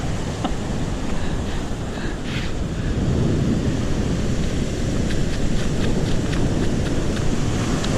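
Ocean surf rolling onto Vilano Beach in Florida, a loud continuous wash of breaking water with wind buffeting the microphone and a few faint clicks.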